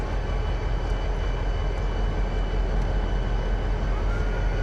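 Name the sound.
model railroad locomotive engine braking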